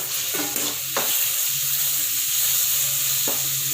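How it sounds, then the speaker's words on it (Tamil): Onions, green chillies and tomatoes sauté in a pan with fennel, cinnamon stick and cloves for tomato kurma, giving a steady close sizzle with a few soft stirring scrapes and no talk. "வெங்காயம், பச்சை மிளகாய் இதெல்லாம் வதக்கிட்டு தக்காளியை போட்டு நல்லா வதக்கணும்"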